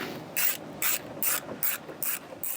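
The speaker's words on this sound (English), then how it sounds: "We will now reinstall the 4 10mm bolts holding the radio into place." A ratchet tightens the 10mm bolts holding the radio in a 2014–2019 Toyota Tundra dash, making about six quick, crisp clicking bursts in an even rhythm, close up and fairly quiet.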